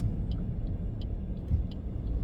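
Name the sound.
car approaching on the road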